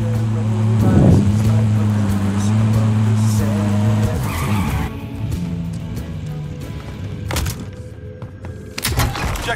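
A car in Call of Duty Warzone drives with a steady engine drone, then skids with tire squeal in the first seconds. Later come further rumbles and a few sharp impacts, with no talking.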